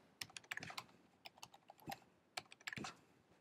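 Rapid, light clicks of typing on a computer keyboard come in short irregular bursts, close and quiet, while registration details are entered.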